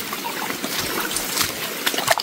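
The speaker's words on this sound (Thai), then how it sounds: "โอ้น้ำไหลมากเนาะ" Water trickles and splashes steadily in a forest stream, close up, with scattered brighter drips and gurgles over a soft continuous flow.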